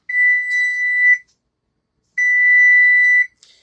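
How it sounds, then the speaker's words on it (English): A home oven's alarm gives two long, loud electronic beeps, each about a second long, separated by a short silence, with a faint click at the end. "I'm going to show you guys how it was beeping"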